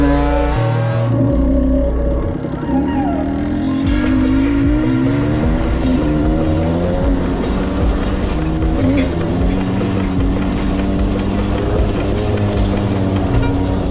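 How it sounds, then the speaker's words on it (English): A logging truck hauling pine and eucalyptus in rural Portugal rumbles past, its heavy engine drone and rattling load building and holding loud and close for over ten seconds, with no talk. "So here's one of the logging trucks that they use to get rid of this pine and eucalyptus"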